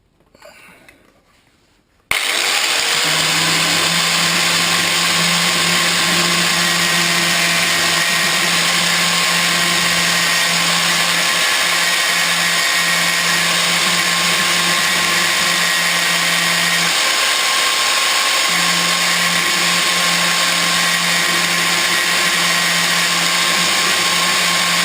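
A power tool grinds steadily on a pocket bike chain, a loud continuous whine with a strong hum that dips briefly near the end, starting abruptly after a short quiet moment.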